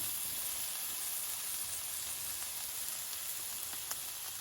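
Shiitake mushrooms hitting a hot pan, giving a steady, even sizzle and hiss that holds constant throughout, with a few faint crackles and pops near the end, with no voices.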